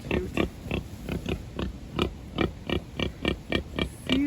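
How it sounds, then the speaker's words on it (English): A sow nursing newborn piglets in a nest on a farm gives a steady run of about a dozen close, rhythmic grunts, evenly spaced, with no voices over them. "Oh man, baby pigs are so cute."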